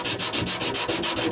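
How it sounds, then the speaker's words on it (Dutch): Rapid, rhythmic sanding strokes on a diesel tank rasp back and forth about seven times a second, close and loud with no voices. "ik zou hem wel een beetje gladder schuren als ik kan"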